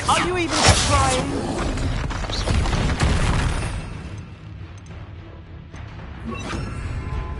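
Incendio and Depulso spell effects burst in Hogwarts Legacy gameplay as loud booming blasts and crackling impacts, heaviest early, then fading into quieter scattered hits; a voice talks over them.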